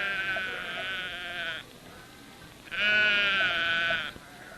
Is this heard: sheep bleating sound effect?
yes